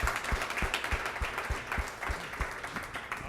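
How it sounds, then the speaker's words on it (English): Audience applause at an Ember.js NYC meetup, a dense sustained patter of many hands clapping together for about three seconds, with steady loudness and a few heavier claps standing out near the front. "Let's give a great round of applause for Alex."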